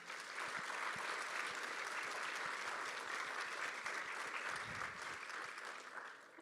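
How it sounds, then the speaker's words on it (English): A large startup showcase audience gives a sustained round of applause, dense steady clapping that fills the room and tapers slightly at the end. "I'm going to give you a big round of applause"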